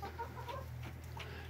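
Chickens cluck softly and steadily inside a coop freshly laid with new bedding, a close, continuous murmur of small calls over a low background hum.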